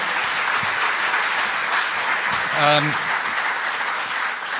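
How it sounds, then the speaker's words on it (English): An audience applauds steadily while a voice briefly rises over the clapping near the end. "thank you for that applause"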